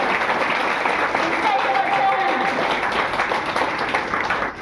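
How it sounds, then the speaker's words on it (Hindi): An audience applauds at a meeting in a Ranchi hotel, sustained dense clapping at an even loudness with a voice briefly audible underneath, tapering off at the very end. "एक और ताली होना चाहिए।"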